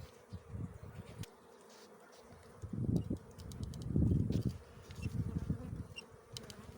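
Honeybees buzz around an opened hive during a post-winter inspection. The hum is close and continuous and swells in irregular waves, with no voices.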